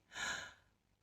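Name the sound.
breathing in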